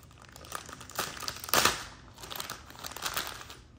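Plastic packets of Pop Rocks candy are torn open by hand without scissors, giving continuous crinkling and ripping close up, with a louder tearing burst midway.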